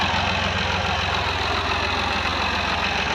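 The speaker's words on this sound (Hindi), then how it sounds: "जा रहा है काम पे ट्रैक्टर।" A tractor engine idles steadily with a continuous low rumble and vibration, loud and near, unbroken and with no talk.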